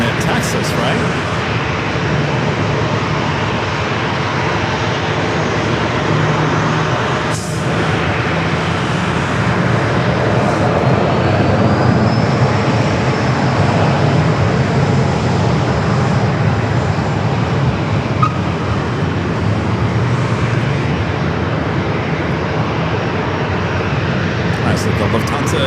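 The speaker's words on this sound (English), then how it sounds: "The Lufthansa A350 still there on taxiway Bravo, still making its way down here to 27." A Lufthansa Airbus A350 taxies along taxiway Bravo at San Diego airport, its engines giving a loud, continuous broadband roar with a faint rising whine, steady for the whole stretch.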